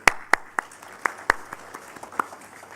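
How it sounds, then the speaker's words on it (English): Sparse, scattered claps at the Connected Kenya ICT Innovation Awards for the Elimika Initiative, a handful of distinct loud hand claps spaced irregularly over a quiet room. "Please, let's give a round of applause to Elimika Initiative"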